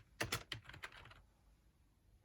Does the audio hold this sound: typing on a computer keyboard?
yes